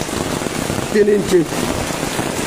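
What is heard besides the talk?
heavy rain falling during a flood in Sylhet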